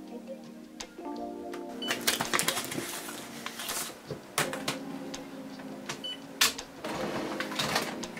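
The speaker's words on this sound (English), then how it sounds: "The printer have been filled up with inks, and let's start the initial procedures." A Canon MAXIFY GX-series inkjet printer runs its initial setup after an ink fill, giving off soft mechanical whirs, clicks and intermittent ticking from the print mechanism, with quiet gaps between bursts.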